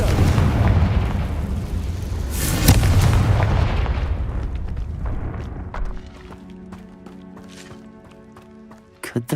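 A Confringo spell explodes in Hogwarts Legacy, a loud booming blast with a sharp burst near the start and a rumbling tail that fades away, followed by quieter magical chimes and small pops.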